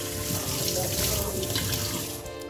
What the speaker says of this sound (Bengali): তো চলো দেখো হাতটাও ধুয়ে নিই।